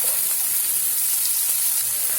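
Asafoetida and finely chopped onion sizzle in a spoonful of hot oil in a kadai, a steady close frying hiss with no pauses and no talk.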